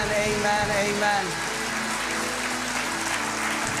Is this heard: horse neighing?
no